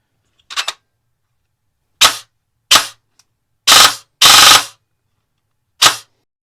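A foam-dart blaster fitted with a budget brushless motor is test-fired in six loud, separate bursts at uneven intervals, each a short whirring shot and some longer, with silence between.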